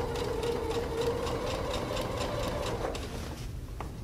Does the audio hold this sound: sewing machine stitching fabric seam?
yes